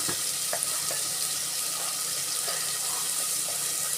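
Onions sauté with salt in a pan, making a faint, even sizzle that runs steadily with a few soft scraping touches.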